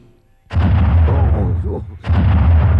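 Two loud, close gunshot blasts boom from a Malayalam movie scene, the first ringing into a rumbling tail before the second hits about a second and a half later.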